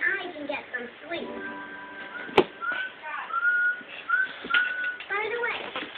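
A person whistles a series of short rising and sliding notes, close and moderately loud, with a sharp knock partway through and a voice now and then.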